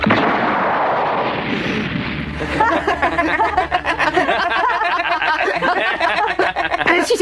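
A loud blast bursts out, followed by crackling, rumbling debris and scattered noise that fades slowly.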